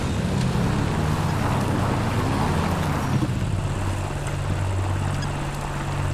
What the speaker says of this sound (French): Démarrez la moto, mettez les phares et tout.